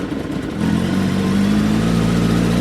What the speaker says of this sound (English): The engine runs smoothly. Here is the factory exhaust.